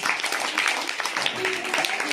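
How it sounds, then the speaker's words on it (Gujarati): Classroom of students clapping in applause during a school quiz competition, a dense burst of many hands filling the short moment, with a voice or two audible underneath. "વેરી ગુડ, તાળી પાડો બધા."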